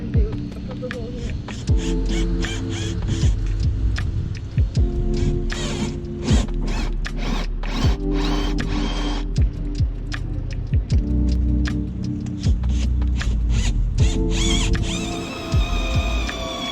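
A power drill bores a hole through a boat's fiberglass in a boatyard, humming steadily close by with a throbbing motor tone, broken by sharp clicks and brief pauses as the bit bites in.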